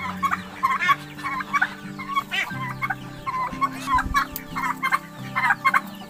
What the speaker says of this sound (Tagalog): Ito yung manukan ko.